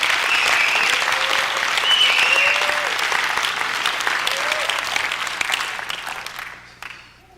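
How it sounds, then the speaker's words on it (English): An audience at a leadership talk claps its hands in sustained, dense applause that fades out near the end. "Clap your hands right there."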